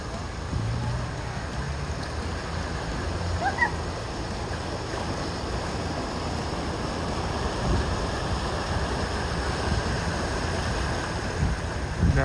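A car fording a flooded crossing pushes a wave of water ahead of it, heard as a steady rushing wash with engine rumble underneath, loud and continuous, while people talk nearby.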